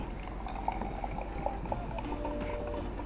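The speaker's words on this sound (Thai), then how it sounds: "เทลงไปในแก้วค่ะ แล้วเราจะได้สังเกตว่าก๊าซคาร์บอนไดออกไซด์ที่แทรกอยู่ในน้ำโซดา มันจะเป็นฟองอากาศขึ้นมา" Soda water pours into a glass in a quiet, faint trickle, with soft fizzing and small drip-like pops from rising carbonation bubbles, close up and without talk.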